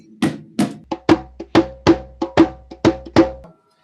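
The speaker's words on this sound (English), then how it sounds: "this little drum here is an African drum" A small African hand drum plays a bambula beat: about a dozen crisp, close strikes in a steady syncopated pattern, alternating deeper open tones with sharper slaps, then stopping abruptly.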